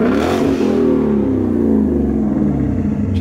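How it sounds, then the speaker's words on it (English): A straight-piped car engine revs up and settles, loud and close, with a throaty rising and falling roar and a raspy clatter, and no talk over it. "Straight pipe. Yeah, she's straight pipe now, huh?"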